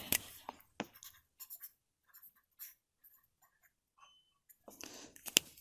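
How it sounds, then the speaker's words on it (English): Quiet pen strokes while notes are written during an anatomy lecture on the urinary bladder: short, scattered scratches and taps separated by near silence, close and faint. "let me write here in case of males"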